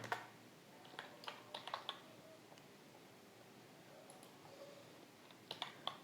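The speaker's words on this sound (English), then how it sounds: "I am just typing here" Soft, quiet computer keyboard clicks come in short scattered bursts, with pauses between them, against a faint steady background hiss.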